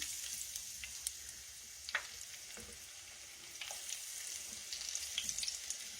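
Okra sizzles in a frying pan with a soft, steady hiss broken by scattered small pops and crackles, quiet and close, with no talking.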